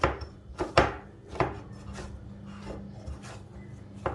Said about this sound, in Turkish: Hamuru güzelce yoğuruyorum.